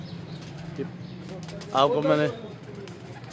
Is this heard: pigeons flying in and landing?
yes